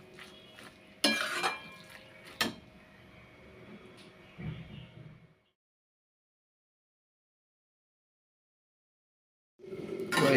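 A metal lid set onto a cooking pot of cabbage and potatoes, with a couple of sharp clanks and some softer pot scraping close by, then silence before another clatter at the end.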